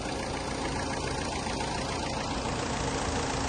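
A 2019 Toyota Etios diesel car engine idles steadily at close range, a constant low rumble with no talking.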